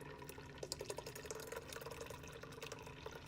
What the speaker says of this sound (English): take this last Guinness, this 4th Guinness, and go ahead and get it into the pot